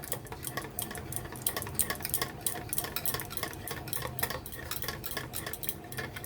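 Whisk or spoon stirring a custard mixture with cold milk in a bowl, steady clinking and scraping strokes throughout, close and moderately loud, no talking.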